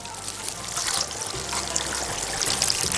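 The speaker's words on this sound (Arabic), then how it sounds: "واطلع الكميه واحط عليهم ميه ساقعه كده" Cold water is poured over freshly boiled potatoes in a kitchen, a close, steady splashing trickle that runs for the whole moment.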